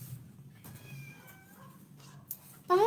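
Cats in an animal shelter's cat quarters meow several times, thin rising calls in the middle followed by a louder, closer meow at the end, over quiet room noise.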